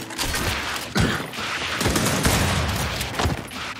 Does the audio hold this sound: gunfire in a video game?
yes